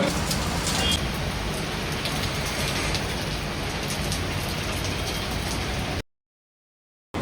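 Heavy rain pours down at night in the seaside town of Puri, a dense, loud, unbroken hiss that runs for about six seconds before cutting to silence, with no voices.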